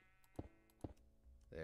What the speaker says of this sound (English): that was just sheep eating